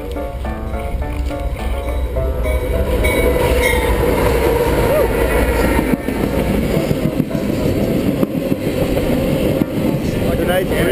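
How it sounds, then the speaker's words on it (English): A train rumbles past close by in Manitoba, with steady rolling wheel noise, rattling cars and occasional clacks, loud and continuous throughout. "So this is Manitoba, and Oz just about to get hit by a train."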